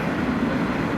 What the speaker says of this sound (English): I don't know if you can hear the train going by.